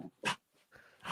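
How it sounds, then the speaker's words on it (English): A dog on a livestream gives short whimpering, breathy vocal sounds in a few brief bursts, close and fairly quiet, with no talk. "We have a dog on stream."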